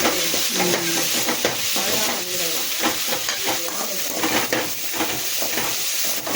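Steady sizzling and frying of shallots and ridge gourd sautéing in a pan for chutney, with scraping and stirring clatter throughout, close and fairly loud, no talking.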